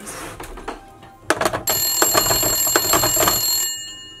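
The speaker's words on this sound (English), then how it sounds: "What's that ringing noise?" A telephone rings inside a closet, a bright electronic trill in several bursts, clearly audible with no talking over it.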